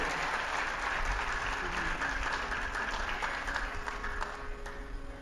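An audience claps in steady applause at a speech event, a sustained, moderately faint clatter without voices on top.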